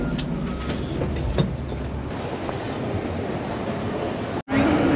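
A train in a station hall in New York gives off a steady, loud rolling rumble and hiss that fills the whole stretch before cutting out abruptly near the end, then resuming.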